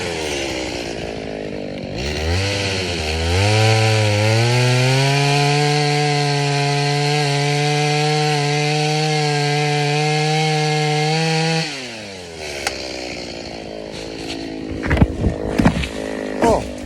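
Stihl 021 chainsaw cutting into a tree outdoors: a loud, sustained high engine whine held under load for about nine seconds, then dropping off, followed by scattered clatter and rustling.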